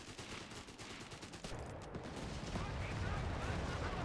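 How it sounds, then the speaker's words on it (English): Anti-tank guns fire in a Company of Heroes 3 battle, a dense wash of overlapping gunfire and booming impacts, steady and fairly loud, with faint game audio running underneath. "AT guns hitting."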